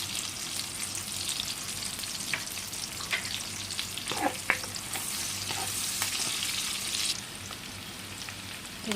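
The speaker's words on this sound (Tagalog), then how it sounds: "doon po natin igigisa yung ating mga panahog. Una po ang sibuyas. Then next yung bawang." Onion and garlic sauté in meat drippings in a pan, a steady close sizzle with occasional stirring scrapes and crackles and no talking.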